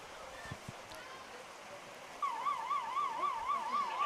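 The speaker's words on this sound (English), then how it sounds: "You'll hear a siren on the stream" A faint wailing siren rises and falls steadily in the distance over a noisy crowd background at a women's soccer match.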